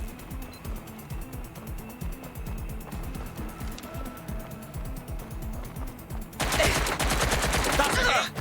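Rapid automatic gunfire from the video game Watch Dogs: Legion, with dense repeated bursts crackling throughout, sitting under a steady game soundtrack, and a louder, harsher barrage taking over near the end.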